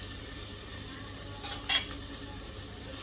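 Carrots frying in a pan with garlic and onions for a lamb shank dish, a faint steady sizzle with one brief stir or scrape near the middle.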